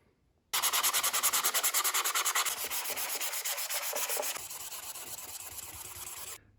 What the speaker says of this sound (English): that's it after sanding with 600 grit